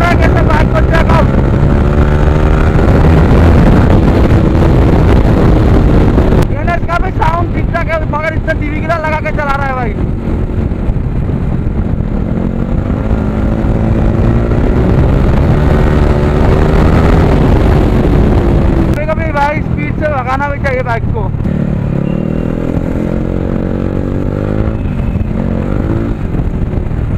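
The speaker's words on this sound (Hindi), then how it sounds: "ये बंदा भगा रहा है कैसे बाइक को, चेक आउट।" Motorcycle being ridden fast, its loud engine droning and revving continuously and close, with wind buffeting the microphone and the pitch rising and falling as the rider accelerates throughout.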